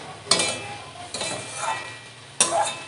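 Food being stirred and mixed in a pan while cooking pui shoots, sounding as three short scraping strokes spaced out over a low background sizzle, fairly close.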